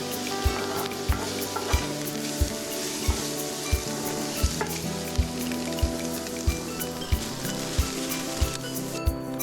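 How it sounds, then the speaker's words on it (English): Bacon fries in a pan with a constant crackling sizzle, while a spoon stirs it with regular knocking taps against the pan about every half second, heard close and with no voices. "fry your bacon, making sure to stir it around so it cooks evenly."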